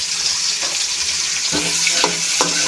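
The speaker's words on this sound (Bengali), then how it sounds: "পেঁয়াজটা একটু ভেজে নিচ্ছি।" Chopped onion fries in hot oil with cumin, cardamom, cinnamon and dried chillies, a dense steady sizzle with a few sharp spoon scrapes toward the end.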